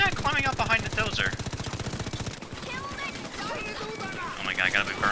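Gunfire in the video game Payday 2, rapid bursts of shots mixed with a chaotic game soundscape, and a person talking over much of it.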